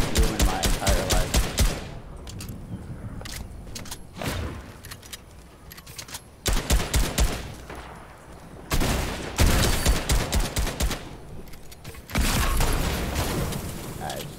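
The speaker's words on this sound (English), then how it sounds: "Somebody has a fire sniper." Rapid bursts of gunfire from a fire sniper rifle in the Fortnite video game come in repeated loud clusters of sharp cracks and booms, separated by short quieter gaps.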